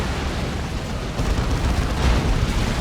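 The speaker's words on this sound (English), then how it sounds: "Big old explosions." A Dawn of War 2 battle erupts in continuous loud explosions and booming blasts, dense and rumbling, with overlapping bursts building near the end.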